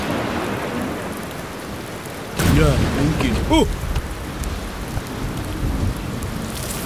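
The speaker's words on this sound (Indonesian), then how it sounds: "Mungkin hujan tidak akan reda sebelum ayam pertama berkokok." Steady, dense rain falls in an animated children's cartoon, with a brief burst of a character's voice partway through over the constant downpour.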